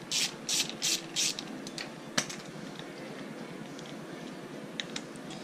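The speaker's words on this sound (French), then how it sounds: "Je dévisse une pompe à eau." A hand ratchet clicks in several quick bursts while loosening the water pump bolts on a Rieju SMX 70 motorcycle, followed by quieter scattered ticks and handling noises in a hushed workshop.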